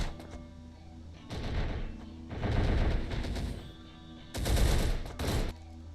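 Bursts of video game gunfire from a tactical shooter on realistic difficulty, with several dense automatic volleys separated by short pauses, loud and close.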